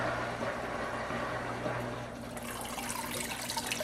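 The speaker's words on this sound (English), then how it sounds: "the filters are going to start turning on, siphoning the water again" Aquarium filters starting up again during a tank water change, giving a steady close wash of running, splashing water with a low hum beneath, growing slightly brighter and more turbulent partway through.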